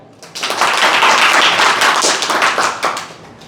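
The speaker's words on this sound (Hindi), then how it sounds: "अपने लिए तालियां" A group at an orientation session for a summer internship claps together after a tongue exercise. The burst of applause comes on fast, holds dense and loud for about three seconds, then fades, with no voices over it.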